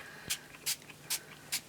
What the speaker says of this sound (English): So I'm just going to spray the whole tag with it.